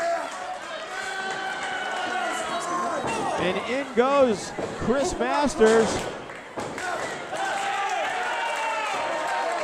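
A wrestling crowd at an independent International Wrestling Federation event roars and cheers throughout while a ringside commentator talks excitedly over it, with thuds from the ring cutting in now and then.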